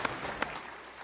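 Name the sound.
congregation applause in church service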